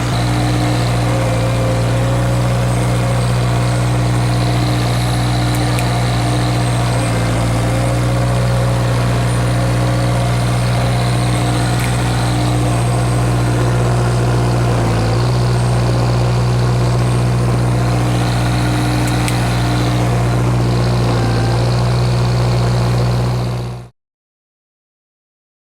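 Mudd-Ox amphibious vehicle running in high range while skid steering its tires, a loud, steady low engine drone with constant hum and slight fluctuations, going on without speech before stopping abruptly.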